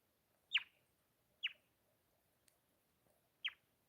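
Birds give faint, distant chirps, three short sharp calls spaced about a second apart against quiet background.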